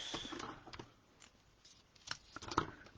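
Quiet, close-up snips of scissors cutting through paper, a few separate crisp cuts with soft rustling between them.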